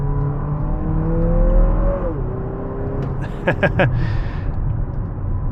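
A 2023 Lexus NX 350 F Sport accelerates in second gear using paddle shifters, the engine tone climbing then dropping at a shift, followed by a few quick rising revs, heard from inside the cabin.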